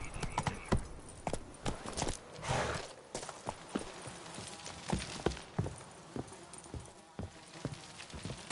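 Hooves of Roach, Geralt's horse in The Witcher 3, clop along in an irregular walking rhythm, moderately close, over a faint outdoor ambience with an occasional brief snort.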